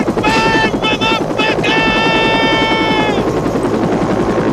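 Military helicopter from the 1986 war film Platoon, a loud steady rotor drone with a harmonic whine, heavy and close, mixed with soundtrack noise.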